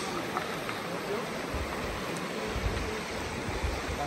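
Continuous rushing water, a river in Sonoma County, California, flowing with steady broadband hiss and low churning, fairly loud and close, with no voices clearly standing out.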